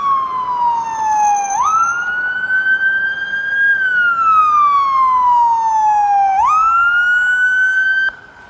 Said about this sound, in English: There's a fire truck coming though.